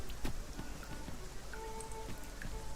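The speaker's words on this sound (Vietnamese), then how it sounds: "Trời mưa." Video game rain in Dragon's Dogma 2: steady rain pattering on a surface, with scattered drops ticking through a constant wash of noise and a faint tone in the background.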